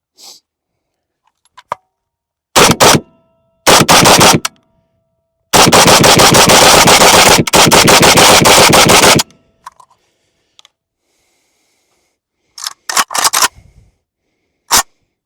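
A PSA AK101 rifle fires steel case rounds outdoors, loud and close: single shots and short bursts, then a long rapid string of several seconds, followed by a few more scattered shots with metallic clinks between, no talking.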